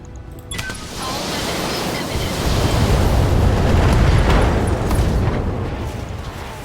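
An ammo explosion in a Battletech video game, coming through as a sustained loud, rumbling roar of broadband noise. It swells over several seconds and then slowly fades, with no voices over it.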